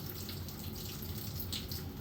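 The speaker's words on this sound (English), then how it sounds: "So that's normal, that dripping, I'd say, compared to what it usually is." Water drips steadily from a Kinetico filter canister during a filter replacement, a continuous close, splashy trickle with no talking.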